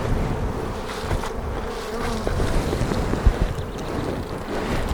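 Dense buzzing of many bees around spring beehives, a steady close swarm hum mixed with gusty wind noise on the microphone and a few brief knocks.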